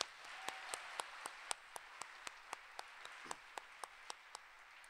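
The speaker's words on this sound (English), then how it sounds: "So another round of applause for them." Faint, sparse applause from a theater audience at a Broadway in Columbus season announcement, heard as a slow, regular series of distinct single claps spaced about a quarter-second apart, distant and quiet.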